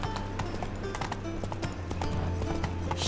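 Roach, Geralt's horse in The Witcher 3, gallops with a steady, fairly close clip-clop of hooves over a low background hum, the rhythm holding across the whole stretch.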